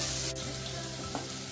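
Potatoes frying in oil for aloo potol, a steady soft sizzle with faint crackles and a brief scrape near the start, close and continuous with no talk.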